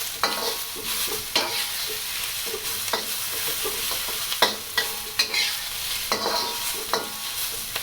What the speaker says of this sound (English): I'm going to cook these until the onions turn a little bit transparent and the Napa cabbage has shrunk